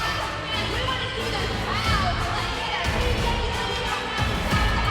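A women's hockey crowd at a PWHL game in PPG Paints Arena, Toronto against Montreal on St. Patrick's Day, keeps up a loud, continuous roar of cheering with some higher shouts, while a commentator talks over it.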